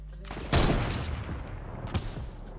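Gunfire in the video game Fortnite: a sharp, loud shot bursts out near the half-second mark, followed by a second, smaller shot later, with a low rumbling bed of game sound in between.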